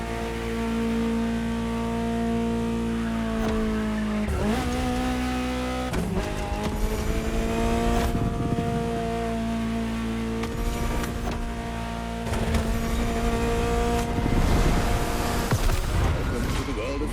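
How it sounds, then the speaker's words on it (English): A Ferrari supercar drives, its engine revving and shifting through rising and falling gears with occasional tire squeal, loud and continuous throughout. "Just listen to the car you're driving."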